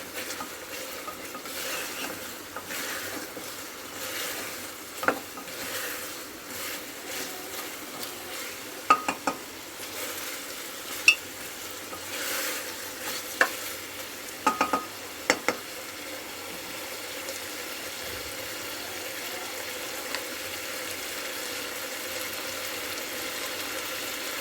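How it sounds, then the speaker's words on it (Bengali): Ginger-garlic paste being stirred and fried with meat in a pan, a steady low sizzle running throughout with scattered sharp clinks of a spatula against the pan, mostly at a moderate distance and without talk. "আদা রসুন বাটাটা দিয়েও কষাবো।"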